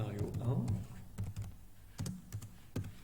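Keys clack on a computer keyboard as a scenario name is typed, with a handful of close, crisp taps spread unevenly across a few seconds, following a brief murmur of speech at the start.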